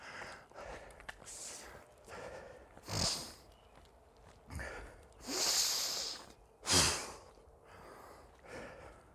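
Heavy breathing right after a sprint workout, with loud close exhales and gasps in uneven bursts separated by quieter breaths, and no speech.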